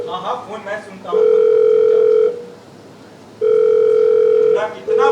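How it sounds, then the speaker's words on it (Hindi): A stage telephone rings during a live Hindi theatre play at a school, two long electronic tones with a pause between them and a third starting at the end, following brief spoken lines beforehand. "बाबा फोन। हाँ फोन मैं सुनता हूँ।"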